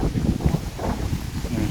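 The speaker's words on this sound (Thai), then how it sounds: "ลมวูมาพี่น้องเนาะพายุถล่มแล้ว" Strong storm wind gusts and roars against the microphone outdoors in steady buffeting blasts.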